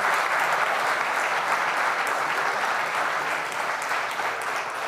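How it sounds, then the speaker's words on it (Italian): Steady audience applause at a Giro d'Italia cycling Hall of Fame ceremony, a dense even wash of many hands clapping throughout, loud and unbroken. "E facciamo un applauso a, a questo gentiluomo."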